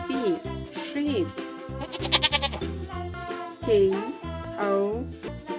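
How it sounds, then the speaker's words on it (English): A toy sheep plays a recorded bleating sound, several wavering bleats mixed with jingly electronic music, close and fairly loud, with a voice heard alongside. "SHEEP, sheep."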